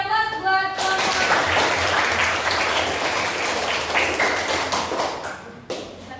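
An audience claps after a presentation at an academic supervision coaching session, a dense burst of hand clapping that swells quickly, holds steady for several seconds, then thins and fades out near the end.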